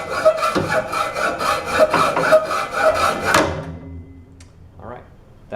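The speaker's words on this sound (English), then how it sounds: "Use the saw to get a nice clean cut at the" Hand saw cutting wood for a trebuchet axle, heard as steady rhythmic rasping strokes up close that stop abruptly, followed by a faint knock.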